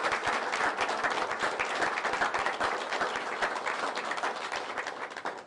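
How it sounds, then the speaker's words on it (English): An audience gives a big round of applause for Paradise Exteriors at a Florida governor's award ceremony, sustained dense clapping from many hands at moderate distance, steady for the whole stretch. "just do a big round of applause for Paradise"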